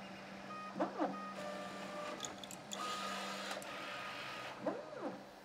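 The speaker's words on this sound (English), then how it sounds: "run it on the printer." A dual-extruder 3D printer running a print, with a steady motor hum and whine and a few rising and falling sweeps of stepper motors as the head moves, fairly faint and with no talk.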